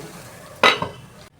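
A lid set down onto a pan of susla on the stove: two quick metallic clanks close together, a sharp bright knock followed by a softer one, over a faint low kitchen hum.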